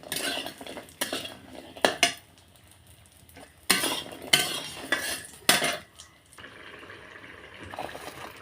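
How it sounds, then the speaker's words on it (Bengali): Pumpkin lentil badis fry in oil in a wok, with repeated metal clinks and scrapes from stirring over a low background hiss. "এই যে বড়িগুলো আমি ভেজে নিচ্ছি এভাবে লাল লাল করে।"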